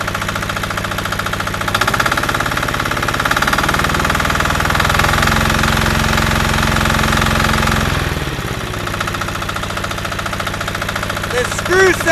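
A small generator engine runs at a set throttle, giving a steady, loud, buzzing drone that shifts pitch slightly mid-clip before settling back.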